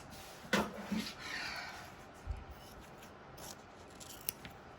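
Scissors trim fabric for a quilt block, giving a few quiet, crisp snips and a soft rustle, close but faint, with no talking.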